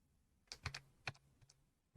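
A few keyboard keys are pressed on a computer keyboard: sparse, quiet clicks in small clusters with short pauses between them and no talking.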